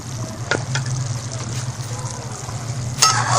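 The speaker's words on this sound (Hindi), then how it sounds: "अब इसको तेज़ आंच पर फ्राई करते रहेंगे जब तक टमाटर भी घुल जाएं और हमारा गोश्त भी गल जाए" Karahi meat with tomatoes and green chillies frying over high heat gives a steady low sizzle and bubbling, with a few brief scrapes or clatters of a utensil against the pan.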